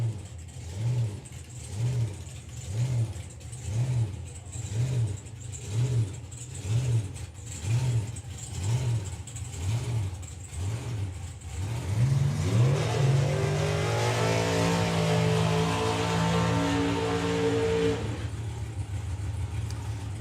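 The supercharged drag racing van known as the Blancmange sits in a rhythmic lopey idle of pulsing blips, then surges into a loud, rising acceleration that holds strong before easing off.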